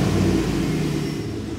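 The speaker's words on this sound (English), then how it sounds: "there's very few things in the world that sound better than a V8 with a quality exhaust system" A 2020 Chevrolet Silverado Trail Boss V8 with an AWE catback quad-tip exhaust gives a brief, deep steady rumble up close, fading slightly at the end.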